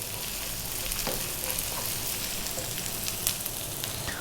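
Fresh chili fries in a shrimp curry masala, a steady close hiss of sizzling oil with faint stirring noises, no voices.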